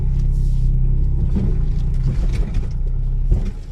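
A steady low engine rumble from a Smart car idling and moving slowly onto a driveway, close by, with faint knocks as it creeps into place.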